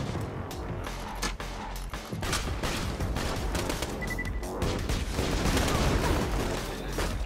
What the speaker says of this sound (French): mon fusil d'assaut il est pas super rapide en cadence de tir mais il fait tellement mal avec ses dégâts explosifs